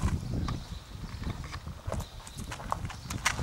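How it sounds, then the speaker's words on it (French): Hooves of a Merens stallion clip-clop steadily during a schooling session, a close, continuous rhythm of footfalls with a faint voice occasionally in the background. "Là, Fazi est un cheval qui s'éduque très facilement, très vite."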